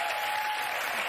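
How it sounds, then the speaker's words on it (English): A studio audience claps in a dense, steady burst of applause, loud and continuous throughout. "please don't applaud that long"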